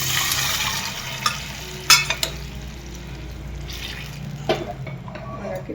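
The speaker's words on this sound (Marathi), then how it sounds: "आपण आता ह्याच्यात भाजी घालून घेऊया." Chandan batwa greens go into a pan with roasted chili powder and fry with a close sizzle that gradually eases, broken by a few sharp clinks and scrapes of a stirring utensil against the pan.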